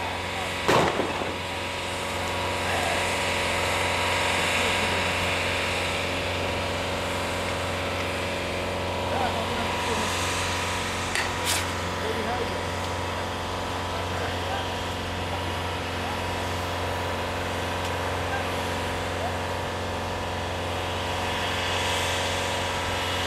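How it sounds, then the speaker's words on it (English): A skunk water truck's engine runs steadily at a street confrontation on Nakba Day in Hawarah, a continuous low rumble with a sharp bang near the start and a brief crack midway. "That's skunk water truck."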